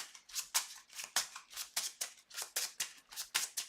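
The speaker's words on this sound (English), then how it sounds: "I shuffle." A deck of game cards is shuffled by hand during a tabletop card game, a fast run of crisp riffling bursts repeating about every half second, close and alone with no voices.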